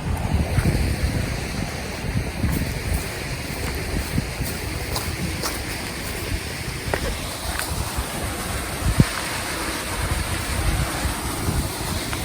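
Small waterfall at Scott Falls in Michigan's Upper Peninsula gives a steady, broadband rushing roar close by, unbroken throughout, with wind buffeting the microphone and a few faint clicks on top.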